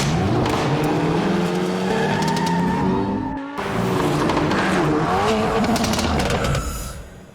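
A 2022 Hyundai Elantra N runs hard with a loud, aggressive exhaust, the engine revving and accelerating through rising gear sweeps, a brief cut in the middle, then pulling again with tire noise before fading slightly.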